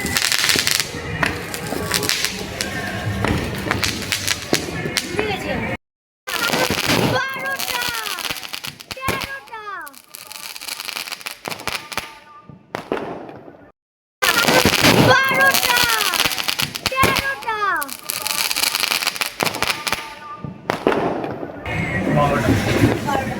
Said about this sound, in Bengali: তিনটে এখন ফাটছে এটা